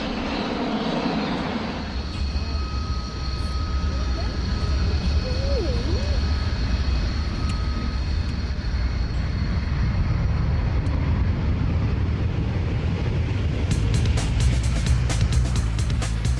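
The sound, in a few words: Airbus airliner flying at Farnborough airshow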